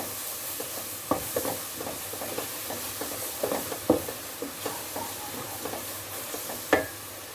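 Pepper paste is stirred in a frying pan, giving a soft, steady sizzle under irregular close scrapes and knocks of the utensil. The sound stays moderate and nobody speaks.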